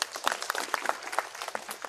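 Classroom audience applauds a student for a correct answer, a steady dense patter of many hands clapping close by for about two seconds, with no talking over it.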